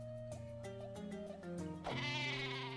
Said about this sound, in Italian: Non c'è nulla che una bella pecora esplosiva non possa risolvere.